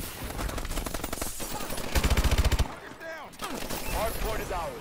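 SMG fire in the video game Call of Duty Advanced Warfare crackles in rapid, loud bursts between other game effects, with a voice talking over parts of it.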